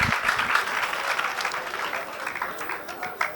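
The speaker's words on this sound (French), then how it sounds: "On applaudit, s'il vous plaît." An audience claps steadily through a lively, dense round of applause at a March 8 music event, with a voice briefly audible among the clapping.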